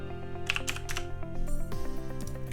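Quick bursts of typing on a computer keyboard, clustered key clicks at close range with brief pauses, over a faint steady background hum.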